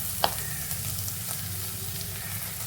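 Chopped onion sizzles steadily in a pan as crushed ginger, garlic and green chilli are added, with a brief clink of a utensil near the start under an even frying hiss.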